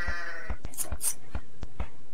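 Sheep bleating in the video game Age of Empires, a few short bleats mixed with sharp clicks and game effects, repeating in an uneven rhythm, loud and close with no talk.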